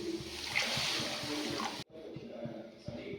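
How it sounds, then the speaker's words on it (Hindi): Water is poured into a kadhai to make jaggery syrup, a steady splashing gush that cuts off abruptly, followed by quieter trickling and faint dripping. "तो 2 कप हम इसमें पानी डालेंगे।"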